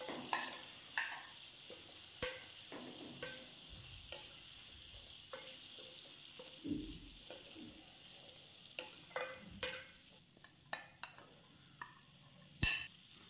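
Chopped potatoes stirred in a hot pan of spiced oil for a green bean and potato sabzi, a soft sizzle broken by repeated scraping clinks of the spoon against the pan, close and without talk.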